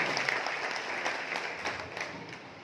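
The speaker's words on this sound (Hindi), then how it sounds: "आदरणीय विजेंद्र सिंह राठौर सर की जोरदार तालियां चाहूंगा" A crowd applauds at a gathering in Chhatrapati Sambhaji Nagar honoring Vijendra Singh Rathore, a brief, fairly distant and soft patter of many hands clapping together without a break.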